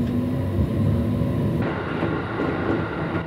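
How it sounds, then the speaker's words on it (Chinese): Inside a JR East Joban Line train running along the Fukushima coast, a steady loud rumble of wheels and carriage noise fills the space, with the tone shifting partway through as the ride continues. "我们搭上东日本的铁路干线长磐线列车"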